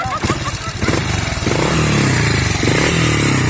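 A Honda Wave 110 motorcycle engine runs in neutral nearby, with a rapid pulsing putter at first that settles into a steady, fairly loud idle, while people talk over it.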